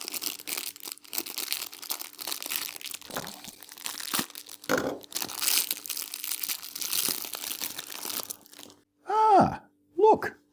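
A small plastic package of cheap garden goodies is torn and crinkled open nearby, with rustling, crunching and tearing running for several seconds, followed by a few brief spoken words.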